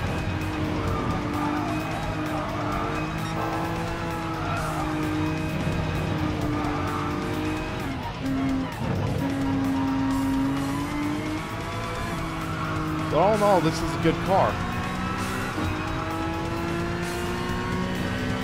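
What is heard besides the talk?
car driving fast on a race track, tires squealing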